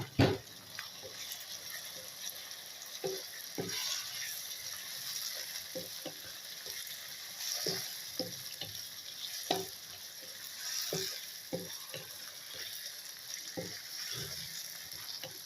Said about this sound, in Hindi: अब इसके अंदर हम लोग शामिल कर देंगे ये जो टमाटर हमने काट के रखे हुए थे